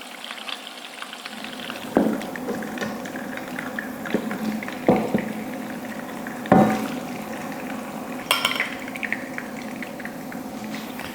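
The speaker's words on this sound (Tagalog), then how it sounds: "Parang dini-deep fry lang natin yung hotdog." Hot dogs deep frying in cooking oil give a steady bubbling sizzle. It sits close and moderately loud, with a few sharp pops and spatters breaking through at intervals.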